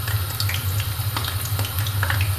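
Eggplant fries in very hot oil, giving a steady close sizzle with scattered small pops and crackles throughout, and no one speaking.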